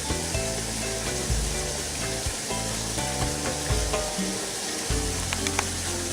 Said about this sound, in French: on l'entend un peu, le ruisseau dont je vous parlais